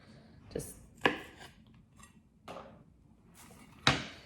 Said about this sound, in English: I like to chop the bottom off of it because it makes it a little bit easier to peel